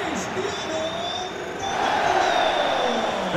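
A stadium crowd in the football game FIFA 23 keeps up a steady roar that swells midway, while a commentator talks over it.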